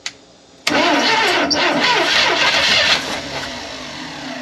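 An old ice cream truck engine running on old fuel cranks with a short click, then fires and catches into a loud, rough, close idle that holds, then eases slightly.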